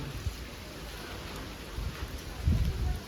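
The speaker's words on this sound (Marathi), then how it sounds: "जोरात येते पाऊस, जोरात येत आहे" Rain driven by gusting wind hisses steadily, swelling into louder low rushes toward the end, with no one talking over it.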